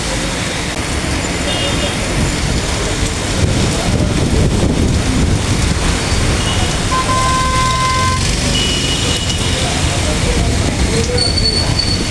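Heavy rain falls across a city, a steady broad hiss mixed with road traffic noise, with brief tonal beeps partway through and no speech.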